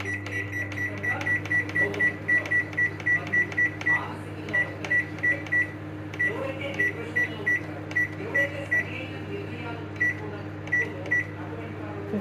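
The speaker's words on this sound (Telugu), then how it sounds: "ఓవెన్లో పెట్టేసిన" A microwave oven runs with a constant low hum, punctuated by a string of short, evenly spaced electronic beeps close by.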